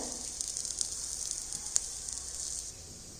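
A puffed-rice snack roasts on a pan over medium gas, giving a faint, even sizzle with a few small pops, close by and with no one talking.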